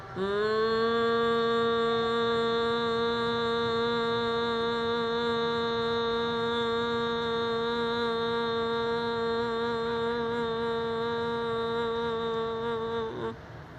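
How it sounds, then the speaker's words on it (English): A group hums together on a long, steady exhaled tone during a breathing exercise at a solstice gathering in Times Square, sustained evenly and loud before fading at the end. "And we can begin the humming as we breathe out."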